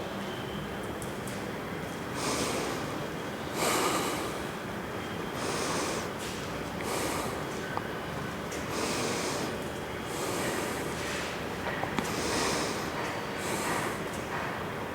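Steady rhythmic breaths in and out during a wrist flexion and extension exercise for handstand preparation, repeating at an even pace with moderately close, airy exhales over a constant background hiss.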